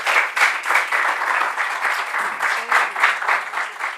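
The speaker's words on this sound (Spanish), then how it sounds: "Con ustedes, recibamos con un fuerte aplauso a María Isabel Martínez." An audience at an academic conference on art history claps steadily for about four seconds, loud and close, a dense patter of many hands with no voices over it.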